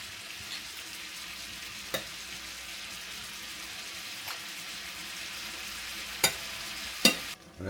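Steak fries in garlic-infused butter sauce, a quiet steady sizzle broken by a few sharp clicks of utensils against the pan toward the end.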